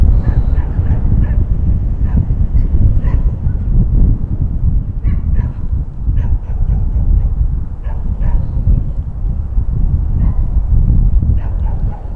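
Stray dogs at a garbage dump, a mother with two pups among them, bark and whimper in a steady jumble over constant wind rumble, with short yelps recurring through the whole stretch.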